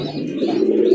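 Red pigeons cooing close by, a short continuous throaty coo with a faint chirp on top and no talking.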